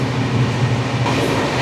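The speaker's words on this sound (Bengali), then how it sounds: "যে স্পিডে ট্রেন চলছে" A passenger train, the Poorva Express between Kolkata and Delhi, runs at speed, a steady deep rumble of wheels and carriage heard from inside, with no voices.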